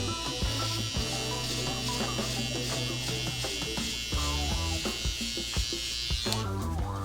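Electric hair trimmer buzzing steadily up close during a home fade haircut, a constant motor whine whose pitch and load shift slightly as it moves through hair, with faint background music.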